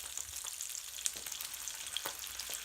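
A floured fish fillet fries skin-side down in a pan, giving a faint, even hiss with small pops and crackles and a couple of brief spits, close by and without any talking.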